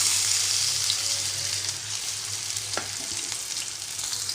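Raw potato halves and green chillies frying in oil in a pan, a close, steady sizzle with a faint low hum beneath and a couple of soft clicks, no talk.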